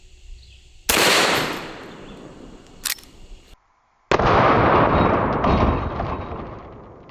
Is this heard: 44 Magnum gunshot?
yes